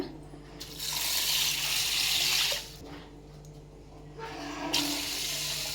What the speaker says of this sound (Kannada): 2 ಗ್ಲಾಸ್ ನೀರು ಹಾಕ್ಕೊಳ್ಳೋಣ.